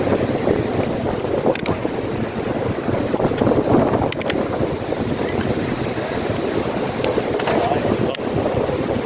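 A strong headwind blusters against the microphone while bicycling along Fort Myers Beach, Florida. A constant loud rumbling roar swells and dips, with faint rattles scattered through it.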